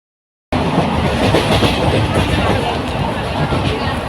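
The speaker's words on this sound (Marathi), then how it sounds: "आम्ही ट्रेनमध्ये आहेत" Inside a moving suburban train between Dadar and Borivali, a loud, continuous rumble of wheels and carriage clatter fills the space close around, with a faint murmur of passengers underneath.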